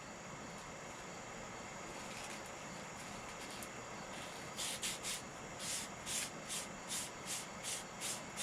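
A Lee Loadmaster reloading press shell plate is scuffed and rubbed by hand, starting as a faint continuous scraping and turning into a series of short, rhythmic rubbing strokes, quiet and close.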